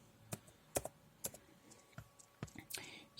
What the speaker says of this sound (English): just write in search tab cmd.